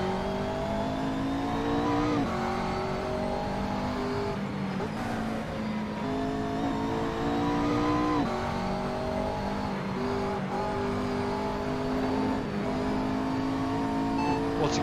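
Racing car engine in the Italian video game Assetto Corsa, a continuous close drone that rises and falls through repeated gear changes and revs, steady in loudness with no voices over it.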